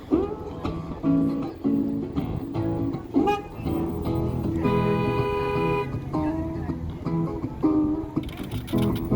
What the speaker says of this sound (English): When people come back and enter back into the facility, they're welcomed by honks